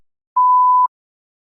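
Single clean electronic test tone marking the start of a speaking response, a steady pure beep lasting about half a second in otherwise complete silence.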